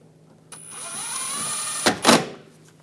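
A power driver whirs for about a second and a half, driving a screw into the inner fender liner of a 2014-2018 GMC Sierra, then stops with a couple of sharp plastic clunks, close and loud.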